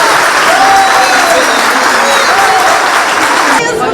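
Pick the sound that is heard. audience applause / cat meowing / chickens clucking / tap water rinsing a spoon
audience applause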